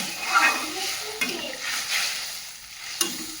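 Spice paste for a Bengali fish curry frying in a pan, a steady close sizzle with stirring scrapes and a couple of sharp utensil knocks against the pan.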